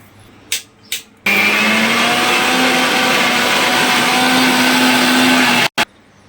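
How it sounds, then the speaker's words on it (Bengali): A loud electric mixer grinder whirs steadily for several seconds as it grinds lentils in the jar, preceded by a couple of brief clicks and ending abruptly, with no talking. "আমি ব্লেন্ড করে নিই মিক্সার জারে। সব মিক্সার জারে নিয়ে নিয়েছি, এটাকে আমি এবার পিষে নেবো।"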